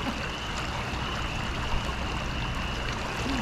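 A creek in the Eureka Springs, Arkansas area flows with a steady, continuous rush and trickle of water, close and even in loudness throughout, with no voices.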